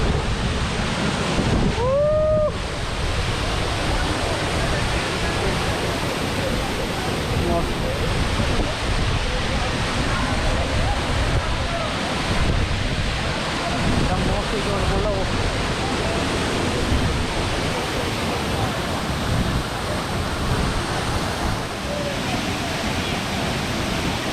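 Deojhar waterfall near Cuttack, Odisha, roars with a loud, steady rush of falling water that stays unbroken for the whole stretch, with a faint bit of voice near the start.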